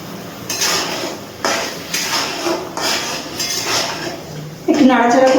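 Pabda fish curry being stirred in a pot, with a utensil scraping and clinking against the metal in repeated strokes, fairly close and steady over several seconds, ending in a louder sizzle-like burst.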